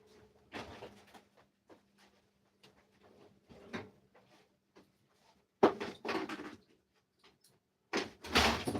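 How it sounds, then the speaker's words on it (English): A door opens and closes indoors, with scattered clicks, knocks and rattles, then heavier thuds and latch noises near the end, fairly close and without talking. "That damn door."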